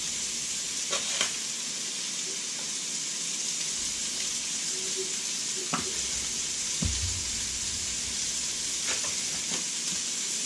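Sausage sizzles steadily in a pan on medium heat for chicken and sausage gumbo, a continuous bright crackle with occasional clinks and stirring knocks, close and fairly loud without speech.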